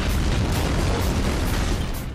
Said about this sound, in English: Big explosions seem to be a general theme in the Ballad of Gay Tony.